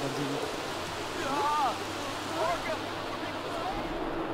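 Steady hiss of acid rain pouring down in The Sims 3, a continuous wash of falling water with voices talking over it.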